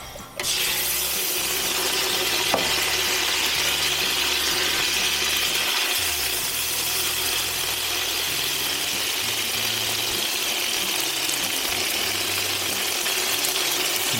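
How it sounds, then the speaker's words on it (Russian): Chicken breast pieces frying in a kazan, a steady loud broadband sizzle that holds unbroken throughout, with a low rumbling hum underneath. "Мы готовим тоже до корочки, обжарим его."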